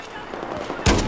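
A single sharp, loud blast from a QBS-09 shotgun in Battlefield 4, arriving abruptly near the end after a stretch of busy game background.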